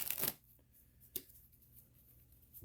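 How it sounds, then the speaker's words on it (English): A deck of playing cards used for a solitaire tabletop wargame is riffle shuffled, giving a quick burst of fluttering card riffle followed by a single soft tap as the deck is squared, all in quiet surroundings. "We'll do a little riffle shuffle here."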